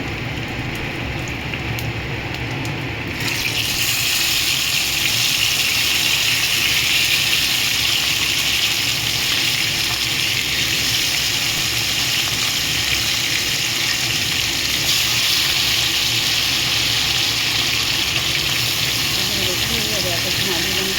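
Fish pieces hit hot oil seasoned with nigella seeds and green chili, setting off a loud, steady sizzle that jumps up after a few quiet seconds and holds for the rest of the stretch, with a voice speaking over it.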